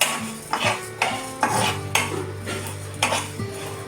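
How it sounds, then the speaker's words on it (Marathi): Garam masala spices dry-roasting in a hot pan, with a metal spatula clinking and scraping against the pan in several sharp knocks over a steady low background hum. "पॅन गरम करत ठेवलेला आहे आता याच्यामध्ये हे भाजून घ्यायचं ते जास्त असं भाजायचं नाही थोडं गरम करून घ्यायचं"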